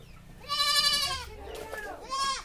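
Goats on a farm on a cold day bleat in two or three loud, wavering calls close by, with a short pause between them.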